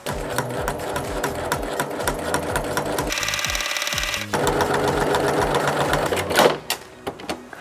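A sewing machine stitches fabric in fast rhythmic bursts, pausing briefly and restarting at a higher, denser pitch, with a clatter near the end; the fabric is one that does not hold an iron crease well.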